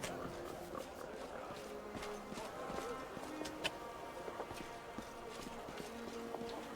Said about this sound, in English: More horses.